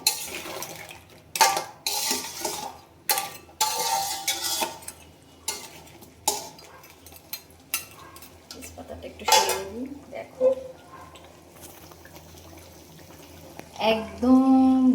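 A metal spoon clatters and scrapes against a pot while crab is cooked with kohlrabi, giving irregular bursts of stirring and clanking over a faint simmer, with a brief voice near the end.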